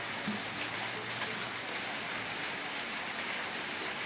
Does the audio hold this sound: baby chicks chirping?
no